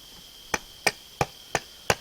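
Five sharp chopping strikes into soft, punky wood land at an even pace, each a crisp thud with a bright edge over a faint steady hum.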